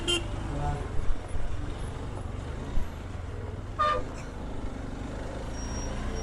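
Busy road traffic passing a motorcycle rider, with a steady rumble of engines and a few short horn toots standing out, one near the middle of the stretch.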